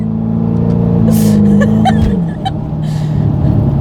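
A 2010 Jaguar XKR accelerates hard on a twisty road with wheel spin, its engine loud and close with a droning tone that drops suddenly partway through.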